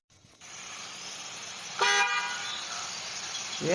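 A single short car horn honk sounds close by, over a steady background of insect chirping.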